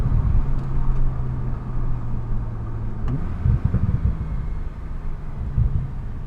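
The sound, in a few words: Porsche 911 Turbo S engine with turbos spooling up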